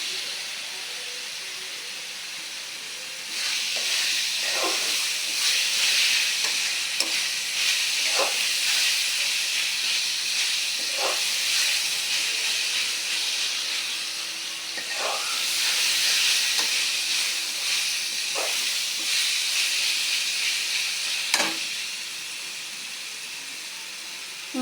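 Pabda fish and onions frying in a pan with ginger and garlic, a hissing sizzle that swells in two long loud spells between quieter stretches, with occasional clinks and taps of a utensil, close by.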